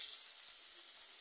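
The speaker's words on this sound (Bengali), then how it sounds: "পনির ভাজা হচ্ছে" Paneer frying in a pan gives off a soft, steady sizzle, a faint continuous hiss with no voices.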